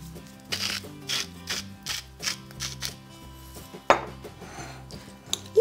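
A cabbage salad dressed with mayonnaise is stirred in a bowl, giving a run of rhythmic clinks and scrapes of a utensil against the dish, with one sharper knock near the end.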